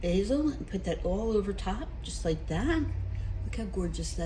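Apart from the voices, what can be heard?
No everyday noise stands out behind the speech.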